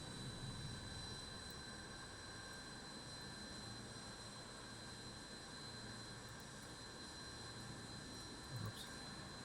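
Steady, even whine and rumble of the An-225 jet engines spooling up in Microsoft Flight Simulator, heard from the cockpit as a faint continuous drone with high tonal hums and no speech.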